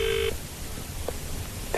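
A telephone being dialed: a steady dialing tone, then a few short faint beeps spaced apart over a noisy background.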